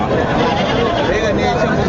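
Goats bleat at a busy livestock goat market in Sangola, their calls mixed into a steady wash of crowd chatter and bargaining voices nearby.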